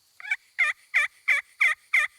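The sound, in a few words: hunter imitating wild turkey gobble with turkey calls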